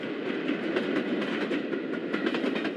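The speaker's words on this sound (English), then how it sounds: "After Standard Tank had left, N2 returned to his favourite siding" A steam tank engine pulls away along a railway line, a steady rumbling roll with faint rhythmic clicking at moderate distance, with no voices over it.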